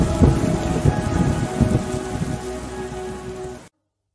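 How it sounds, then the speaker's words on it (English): Heavy rain sound effect played during a school annual day stage play, a loud steady downpour with a dense patter that carries on for several seconds and then cuts off abruptly, with no talk. "But when it rains heavily, the poor plant is battered down and submerged in water."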